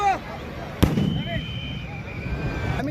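Firecrackers packed inside a burning Ravan effigy go off at a Dussehra Ravan Dahan in Bhavnagar: one sharp, loud bang, then whistling streaks and crackling over a noisy outdoor crowd.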